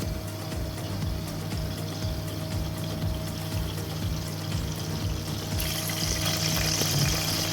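Hot oil left from frying onions is poured back into a pan on the stove while cooking Amritsari chole, heard as a steady, continuous wet rush with a faint hum beneath, close and fairly even throughout, with no talk.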